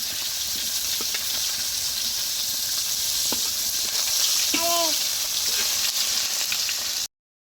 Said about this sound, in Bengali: হচ্ছে ডিমটা ভাজবো।